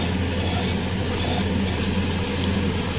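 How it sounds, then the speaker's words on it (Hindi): Fenugreek seeds fry lightly in a pan for kadhi pakora, giving a steady, even sizzling hiss that holds throughout without a break. "यहाँ पे हल्का सा मैं मेथी दाने को फ्राई कर रही हूँ।"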